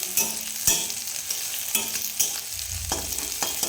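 Onions frying in a pan make a steady sizzle, broken by several sharp clacks and scrapes of stirring spread through the clip.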